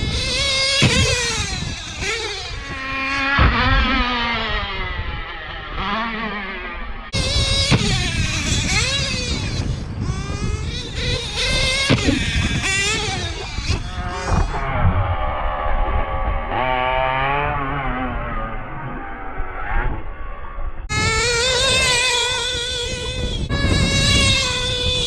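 A TLR RC truggy's .28 big block nitro engine, fitted with a Nova Rossi pipe, screams through repeated sharp high-pitched revs with rising and falling pitch, loud and close, with no talking.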